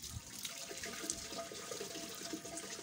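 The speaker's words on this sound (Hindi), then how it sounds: "पानी लेने के बाद अपने पूरे फेस को धोना है" Water splashing and running from a tap as the face is washed for wudu, a soft continuous trickle with small splashes, close by and alone.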